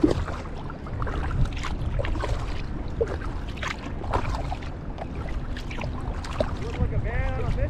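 Paddling a boat into the wind on Flat River near Lowell, Michigan, with soft water swishes and gusty wind noise under intermittent talking between people.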